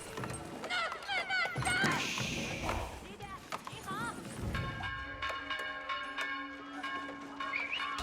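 Town bell ringing during an Age of Empires 4 match, repeated metallic clangs layered over battle sounds and game effects, with commentators talking throughout.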